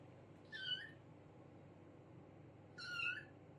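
A cat meows twice, loud and drawn-out, separated by a couple of seconds of quiet background hum.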